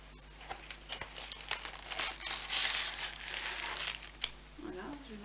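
Plastic packaging on a decorative Easter egg craft kit is pulled open with close, bright crinkling and crackling that swells toward the middle and then fades into quieter rustles.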